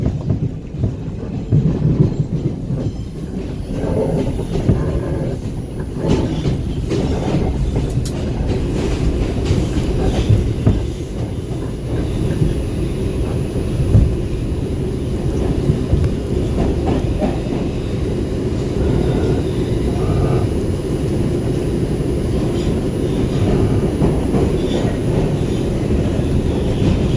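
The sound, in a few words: New York City subway train #2 running in Brooklyn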